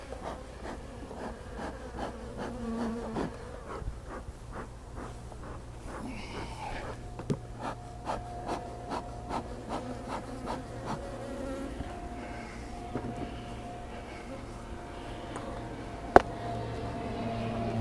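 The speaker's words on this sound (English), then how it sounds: "Plenty of bees." Honeybees buzz steadily around a beehive near the end of the honey flow, a dense continuous drone with individual bees passing close by, heard alone with no talk.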